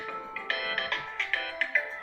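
A telephone ringtone plays an electronic rising chime pattern repeated several times in quick bursts, clear and close, with no talk over it, signalling an unwanted spam call.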